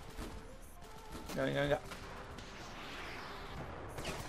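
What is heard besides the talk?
gunfire in the video game Ravenfield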